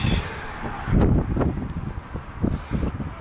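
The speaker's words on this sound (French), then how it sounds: "Il y a un petit peu de vent." Gusty wind buffets the microphone outdoors in uneven rumbling bursts, loud and close, with no voices.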